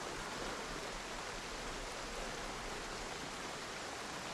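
Steady, even rain from the Project Zomboid video game hisses as a continuous broadband wash, faint and unbroken with no other sounds over it.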